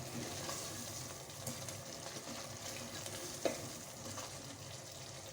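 Tomato paste with salt, ground red chili, ground coriander and turmeric being mixed in a pan for a bottle gourd curry (lauki salan): a soft, steady sizzle with light scraping strokes, quiet and close, with no talking.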